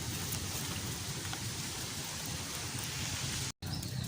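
Steady, dense rainfall hisses on surfaces nearby, constant throughout with a brief dropout near the end.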